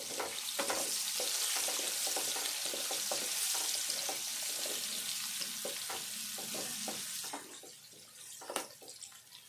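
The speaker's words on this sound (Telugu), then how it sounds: "ఉల్లిపాయ మంచిగా దూరగా వేగాలి" Onions fry in oil for a fish curry, a close, crackling sizzle broken by frequent spoon taps and stirs, quieting near the end apart from a few final knocks.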